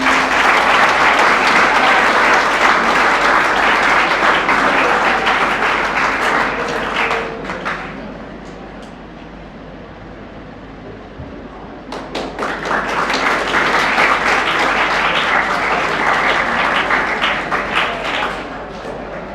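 An audience at a quiz competition prize distribution bursts into loud, dense applause that fades to a lull midway, then swells again strongly before tapering, close and sustained with a faint voice underneath.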